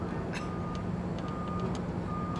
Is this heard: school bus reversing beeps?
yes